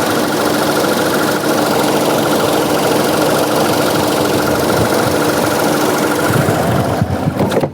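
A used car's engine runs steadily at a car bazaar for about seven seconds, with a loud, continuous mid-pitched rumble and vibration that shifts briefly near the end, with no talk over it.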